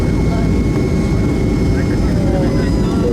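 Loud, steady low engine roar of airplanes at an airport, filling the background, with a faint whine on top and no clear pauses.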